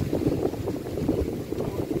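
Strong wind gusts roar steadily over an open farm field among cherry trees, a loud continuous rumble of buffeting air with no talking.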